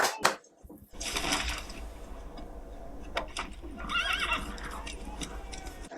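A horse whinnies loudly and its hooves clip-clop in a Game of Thrones scene, with a brief sharp sound at the start followed by the neigh and steady hoofbeats over background ambience.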